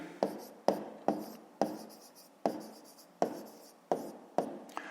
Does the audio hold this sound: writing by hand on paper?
yes